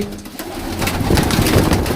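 Ferozpuri Golden Teddy pigeons coo in low, rolling murmurs, several birds overlapping close by in a steady, dense chorus.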